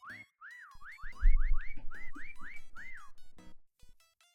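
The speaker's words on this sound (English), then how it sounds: "That's a lot of whistles." Repeated rising-and-falling whistle calls sound in quick succession in a video game, a dozen or so swooping tones over a low rumble, stopping after about three seconds.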